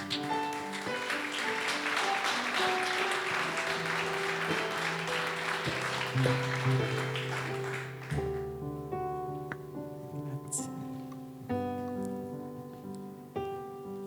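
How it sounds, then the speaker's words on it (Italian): Applause from an audience welcoming Anna Cristina Serra at an evening event in Silanus rises over sustained instrumental tones, then fades about halfway as the music carries on alone with held notes. "Accoglietela con un grande applauso, Anna Cristina Serra"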